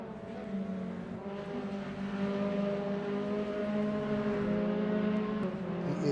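Race cars in a video game lapping the Silverstone National circuit, a steady layered engine drone with sustained harmonic whine that grows slightly louder midway, continuous with no talking.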